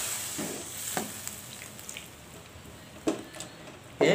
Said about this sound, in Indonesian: Oke, kita masukkan air 500 ml.